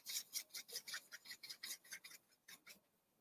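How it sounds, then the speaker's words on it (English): Quick back-and-forth scribbling of a coloring tool on paper, a close, quiet, raspy scratching in even strokes that slows and fades toward the end, with no talking. "And then down here, I'm just going to scribble, scribble, scribble."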